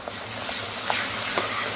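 Tamarind pulp with cumin and coconut spice paste sizzles as it is sautéed in a pan, a soft steady frying hiss broken by a few light scraping stirs.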